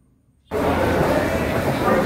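A moving train's rumble starts abruptly and holds steady and loud, a dense rolling noise with no clear talk.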